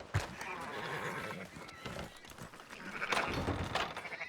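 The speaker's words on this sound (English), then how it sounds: "Fine sheep." Sheep bleat in the open-world western game Red Dead Redemption 2, a few calls standing out over a busy farmyard bed of animal noise and movement, fairly close and moderately loud.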